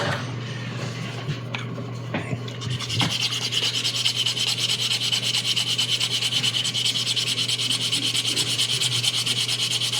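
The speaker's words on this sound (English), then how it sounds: "I've got enough room up here to sand this key down a little bit." Sanding down the key on a 3D printed figure part: close, continuous rough rubbing and rasping that starts after a few light scrapes and then holds steady and loud.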